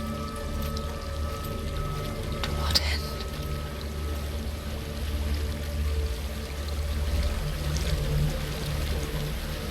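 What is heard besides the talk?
flowing water in the video game Hellblade: Senua's Sacrifice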